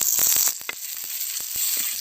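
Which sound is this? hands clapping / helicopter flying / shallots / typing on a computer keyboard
shallots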